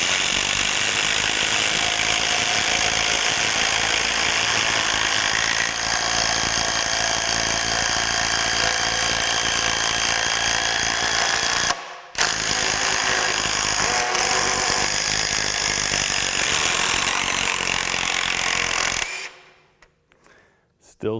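A Craftsman V20 brushless quarter-inch impact driver and a Triple Hammer impact driver drive fasteners into wood, giving loud, continuous rattling hammer bursts. A brief gap interrupts the run before it cuts off near the end.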